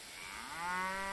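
A bull's low, drawn-out moo swells in loudness and holds steady as a short game sound effect in a detective puzzle game, heard alone without speech.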